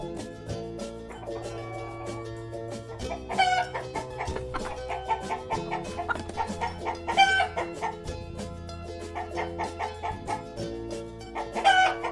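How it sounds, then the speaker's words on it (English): A farm hen clucks in short, choppy bursts over a steady musical backing, with a few louder calls standing out near the middle and end. "hen माने मुर्गी"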